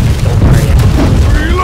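Heavy cannon impacts striking a wooden sailing ship in the naval battle game Blackwake, a dense low booming rumble that runs continuously through the short stretch, with voices talking faintly underneath.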